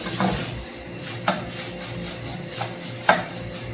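Semolina being stirred in a pan, with a few scraping knocks of a utensil against the metal, sparse and close.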